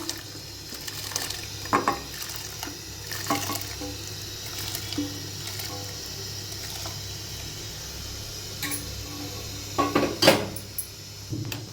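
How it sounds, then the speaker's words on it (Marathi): Water sloshes and swirls in a pot as sabudana is stirred into hot water, with occasional clinks of a utensil against metal; no voices. "सावकाश असं गरम पाण्यात मिक्स करायचं।"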